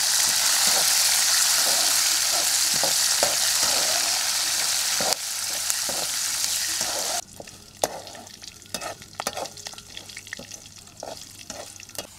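Curry leaves and large onions frying in a pan, a loud steady sizzle for about seven seconds that drops to a quieter crackle with scattered stirring clicks, no talking.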